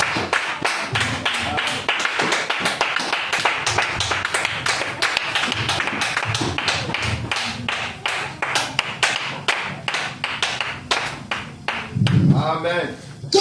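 Congregation clapping rhythmically in unison during a French-speaking church service, steady repeated claps throughout with crowd voices underneath and a brief voice near the end.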